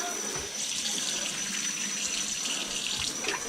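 Water runs steadily from a newly installed sink faucet set into a new countertop, a close, continuous splashing hiss.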